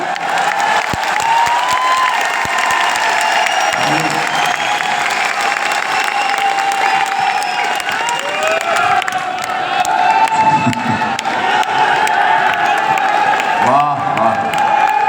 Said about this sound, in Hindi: इतनी बार तालियां बजवा ली ना।